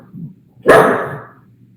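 A single pug bark, loud and close, bursting out after a faint low murmur and trailing off over about a second.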